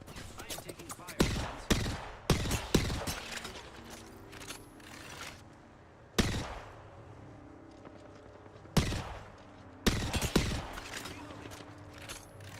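Video game gunfire in sharp, loud bursts of shots at irregular intervals, with mechanical clatter between volleys.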